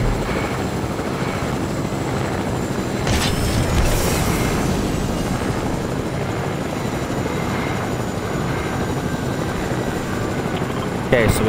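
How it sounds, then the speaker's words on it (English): Helicopter in the Fortnite video game, a steady broadband rotor and engine drone running throughout at moderate level, with gamers talking over it. "Helicopter? We got a helicopter."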